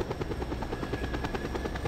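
A helicopter in the video game Just Cause 2, its rotor thumping in a fast, even rhythm with a steady whining hum, loud and close throughout, with no voices.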